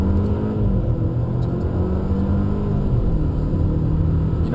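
An Audi A4 with a Stage 1 APR tune accelerates through its gears, giving a loud, steady engine rumble and whir from inside the car with subtle dips at the shifts.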